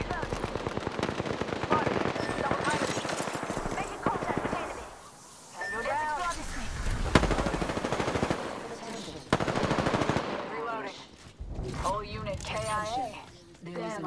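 Machine-gun fire in an Apex Legends-style battle royale shooter, loud rapid bursts rattling close by with short pauses between volleys, game voice callouts and speech running over the shooting.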